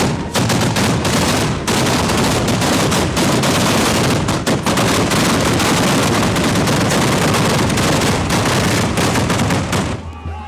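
Six hundred firecrackers explode in the rain at a December 8 festival in Laramarca, a loud, dense, nonstop crackling barrage of rapid bangs that lasts about ten seconds before cutting off.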